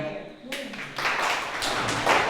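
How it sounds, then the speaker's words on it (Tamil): Clapping from an audience of students in a classroom, a broad burst of hand claps that swells after a brief pause and carries on steadily. "கைதட்டுங்க"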